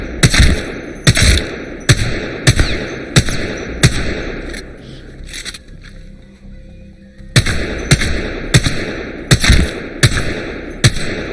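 Single-fire gunshots from a weapon in Apex Legends crack out sharply in a regular rhythm, about ten loud reports with a pause in the middle before the shooting resumes.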